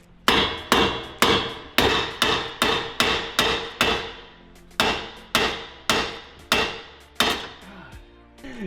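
A mallet strikes Mustang GT Eibach lowering springs in a run of about a dozen loud, sharp metallic blows, each ringing briefly before the next, close by, with a short pause partway through.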